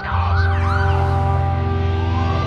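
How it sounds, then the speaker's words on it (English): A loud, close police car siren wails continuously with rising and falling tones, layered over a low engine drone. "Sober Doom was intercepted by a fleet of local police cars."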